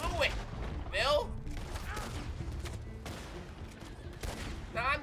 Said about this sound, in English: Now I'm getting shot at.